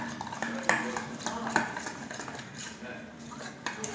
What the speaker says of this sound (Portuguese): Tô misturando bem agora.